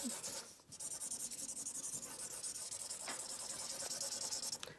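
Steady scratchy rubbing of a crayon or pencil coloring on paper, close and rhythmic strokes with no talking.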